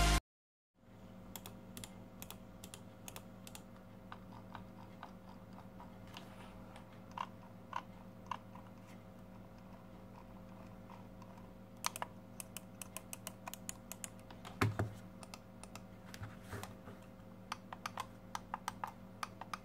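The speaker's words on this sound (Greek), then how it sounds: "Ας ακούσουμε το θόρυβο που προκαλείται από το ποντίκι και το πληκτρολόγιο." Quiet, steady typing on a CoolerMaster Devastator keyboard with scattered sharper mouse clicks over a faint background hum, heard up close.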